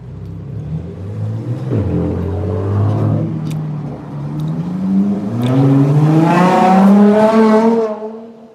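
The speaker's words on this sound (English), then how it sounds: "Rev it up." A car engine revs up and down on a late-night street, loud and near, its pitch rising and falling in long sweeps that climb toward the end, with no talk over it.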